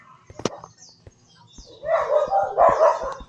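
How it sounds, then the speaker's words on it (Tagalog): Minecraft-style game dog or wolf barking in a big cave, a short yap near the start, then rapid overlapping barks and whines that grow louder and continue through the end. "Ingay ng aso."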